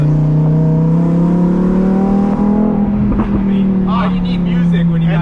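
A 2024 Harley-Davidson Road Glide on its stock exhaust idles with a deep, loud rumble, then its revs rise and fall; a voice speaks over the engine.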